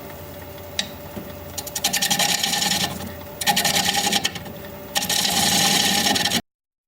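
A wood lathe turns a walnut hollow form at about 660 RPM, giving bursts of steady scraping, rasping cuts broken by short pauses as the tool comes off the wood, close and fairly loud, with no talking.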